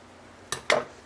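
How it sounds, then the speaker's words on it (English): Scissors make two quick, crisp snips through blue painter's tape while shaping a miniature asphalt roof, close and clear against a quiet room. "you want those to be cut with the scissors"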